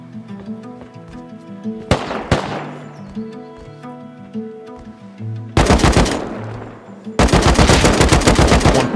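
Gunfire in the survival game Rust: sharp single shots followed by loud, dense bursts of automatic fire, close and aggressive, with scattered softer pops and game noise between the volleys.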